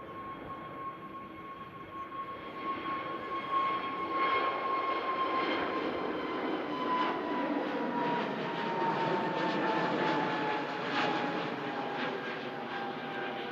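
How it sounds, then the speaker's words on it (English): A British Airways Airbus A320neo in special livery climbs away from Manchester Airport toward London Heathrow, its engine roar building from quiet into a sustained whine and rumble that holds steady, heard alone. "BA Better World Special A320 Neo heading back to London Heathrow"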